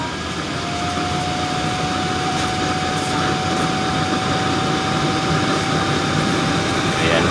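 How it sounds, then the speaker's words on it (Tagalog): A blower drives a waste oil burner chamber with a nozzle and pipes, a steady loud broadband roar of forced air and flame with a thin constant whine, continuous throughout. "Buksan natin yung blower."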